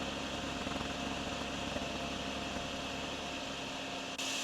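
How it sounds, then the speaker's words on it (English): A vacuum cleaner runs in the DrainSim video game, giving a steady, loud, unbroken mechanical whir that holds throughout with no talk over it. "Hoover in use."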